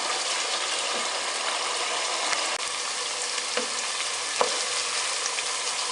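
Onions for a fish curry fry in a pan until lightly browned, giving a soft, even sizzle throughout with a few faint clicks and ticks. No voices are heard.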